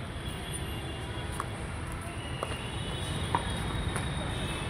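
Inside Benaganahalli metro station, a continuous low rumble of a metro train runs throughout, with faint rail squeal and occasional light clicks, steady and moderately distant.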